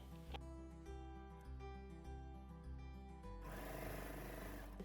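A serger runs along a shoulder seam on a romper, giving a quiet, continuous mechanical hum with shifting tonal whirring and a rougher, busier stretch toward the end.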